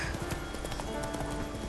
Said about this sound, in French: le cheval un peu galoper pour lui dire plus vite